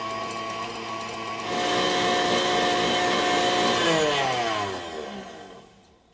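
An electric mixer whips egg whites to stiff peaks for an angel food cake, a loud steady motor whine that rises in speed, holds, then winds down and stops, with no talk.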